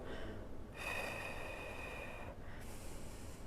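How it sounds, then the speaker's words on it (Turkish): Rhythmic breathing during an abdominal workout, drawn in through the nose and blown out through the mouth: a long hissing exhale of about one and a half seconds, then a second breath beginning, close and steady over a noisy background. "Burundan al, ağızdan üfle."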